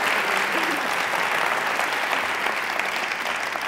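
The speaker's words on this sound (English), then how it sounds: "we all owe Allie a round of applause" An audience gives a steady, dense round of applause at a heart-intelligence talk, loud and sustained throughout with no break.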